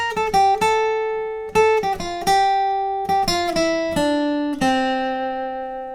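An electric guitar plays a quick melodic riff of plucked notes in bursts, ringing between phrases, with no talking.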